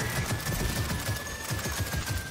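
Rapid automatic gunfire from a heavy mounted gun in Gears of War 4 on Xbox One, a steady rattling burst of evenly spaced shots running continuously and loud throughout.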